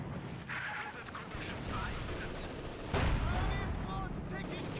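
Machine guns chatter faintly in a Company of Heroes 2 battle. The distant rattling fire blends with a dense, rumbling wash of combat noise that swells slightly partway through.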